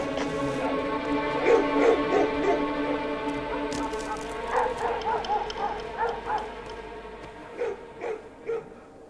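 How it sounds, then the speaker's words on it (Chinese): Dogs in a palace courtyard from a Qing-court period drama bark and yip in short repeated bursts at moderate distance, with the yaps growing choppier toward the end. "没日没夜的狗叫"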